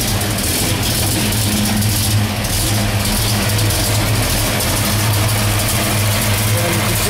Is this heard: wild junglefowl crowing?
no